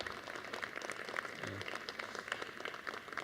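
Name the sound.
audience applauding Daniel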